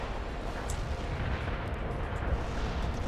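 Artillery fire in the real-time strategy game World in Conflict, a dense, continuous roar of booming blasts blending into one heavy rumble, loud and unbroken with no speech.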